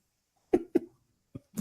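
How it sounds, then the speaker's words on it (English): Four coughs: two quick, sharp ones close together, a pause, then a short hack and a final cough, nearby with no talking. "Make the cough noise a second time."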